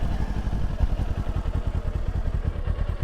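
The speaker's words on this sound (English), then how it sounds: "So I'll just quickly start the bike and how it sounds." A Kawasaki Ninja 400 motorcycle idles close by with a rapid, even low putter and a faint metallic clatter on top, holding a steady rhythm throughout.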